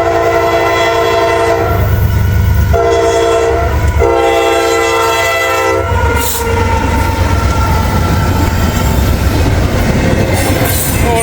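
A fast train rushes past in Kentucky, loud and close throughout, with a steady roar of wheels and rail clatter under a sustained horn blast that holds for several seconds.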